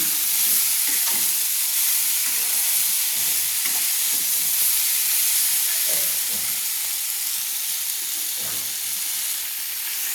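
Soybean chunks and fried potato pieces being stir-fried with spices, a loud continuous sizzle with repeated spatula scrapes and stirring knocks, close up and without speech.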